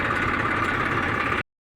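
A tractor engine idles steadily on a farm, a constant close rumble with a broad mechanical drone that runs evenly before cutting off abruptly near the end.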